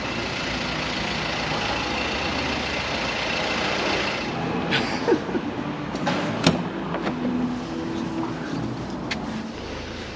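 Camper van Mary rolls along after a wheel tracking adjustment, a steady close engine and road rumble throughout with a few brief rattles and knocks midway.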